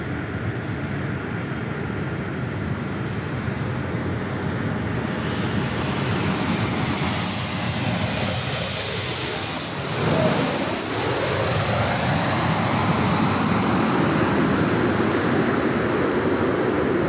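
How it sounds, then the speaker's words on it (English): A United Boeing 757 jet at LAX roars loudly and steadily, swelling as it passes close by around the midpoint, then leaving a high whine and broad rumble as it moves on. "that United 757 at 300 heading over to 19er"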